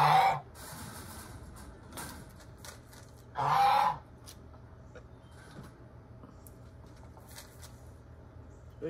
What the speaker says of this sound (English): my little chicks are running around, folks